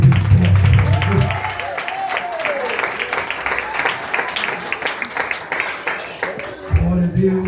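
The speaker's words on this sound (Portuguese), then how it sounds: "Quem tem a paz do Senhor, bate palma, bem alegre, bem forte." A church congregation claps and applauds at length, a dense, steady patter of many hands. Short stretches of low talk are heard at the start and at the end.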